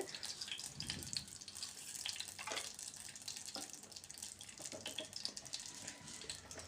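Hot oil spluttering in a pan after water hits it, a steady, close, hissing sizzle with scattered sharp crackles and pops throughout.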